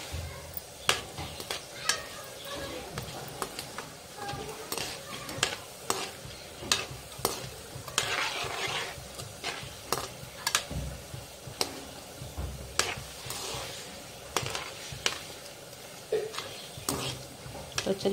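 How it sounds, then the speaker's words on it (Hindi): Paneer cubes fry gently in a pan over a low flame, giving a faint, steady sizzle broken by repeated light clicks and scrapes of a spatula stirring, with soft talking now and then. "लो फ्लेम पे ही हम अच्छे से पकाएंगे इसको।"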